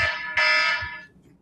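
A personal alarm goes off indoors, a bright electronic buzzer tone that holds for about a second, jumps louder partway through, then cuts off.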